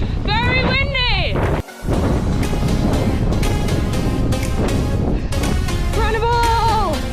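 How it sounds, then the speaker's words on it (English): Strong wind buffets the microphone outdoors during a long multi-day marathon run, a loud continuous roar with gusts and a short drop-out, while a voice talks over it. "The wind, very windy."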